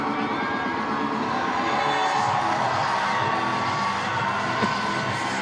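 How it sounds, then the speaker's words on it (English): Baseball crowd at a Savannah Bananas game cheering and shouting in a steady, lively roar of many voices, including children, lasting the whole few seconds. "Crowd getting a good kick out of Ty Jackson and company, celebrating the final inning as they do"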